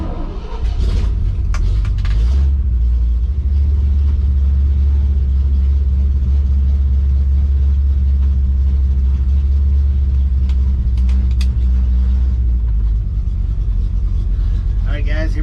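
A 1966 Chevrolet C10 truck fitted with a new exhaust system runs close by, giving a loud, steady low rumble. It idles evenly for most of the stretch before tailing off near the end.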